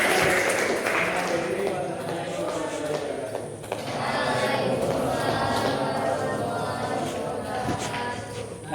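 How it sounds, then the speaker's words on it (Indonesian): A classroom audience claps steadily for a student group, the dense applause filling the room at even loudness and tapering briefly midway before picking back up. "Silakan tepuk tangan lagi untuk kelompok 1."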